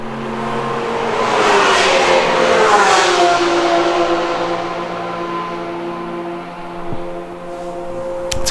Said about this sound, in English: We'll hear the V10 echo off the empty grandstand here at Mugello